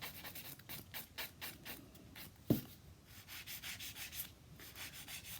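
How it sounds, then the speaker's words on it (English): A nail file rasps rhythmically across an acrylic nail in quick back-and-forth strokes, close and fairly quiet, with one sharp tap partway through. "then I would just continue to do my normal filing routine"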